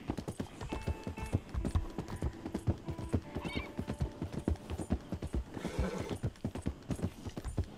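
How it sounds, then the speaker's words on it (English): A horse's hooves clip-clop at a steady trot along train tracks in the video game Red Dead Redemption 2, with a rapid, even rhythm of close strikes and a brief whinny partway through. "Nothing like riding the train tracks on a horse."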